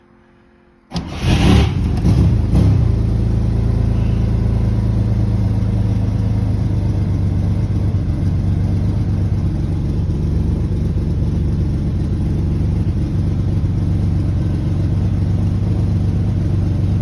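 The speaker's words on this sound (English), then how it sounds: "let the electric fuel pump kick in, and then just crank it" A 1964 Chevrolet Corvair engine with an electric fuel pump cranks briefly from cold, catches and settles into a loud, steady idle that continues close by.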